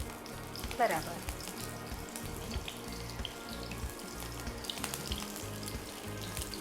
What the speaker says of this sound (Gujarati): ડીપ ફ્રાય કરી લઈએ મુઠિયાને.